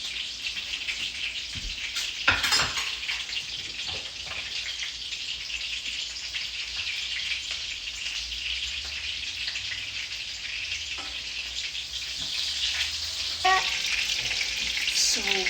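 Artichoke hearts frying in oil heated to 350, a steady dense sizzle and crackle that runs close and continuous throughout, with a few louder spits and bursts of bubbling near the start and end.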